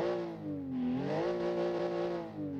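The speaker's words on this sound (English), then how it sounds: "different intake, I think, because the engine sounds different" A car engine revs up and settles, its pitch sweeping down, then rising and holding steady. It is loud and close, with no talk over it.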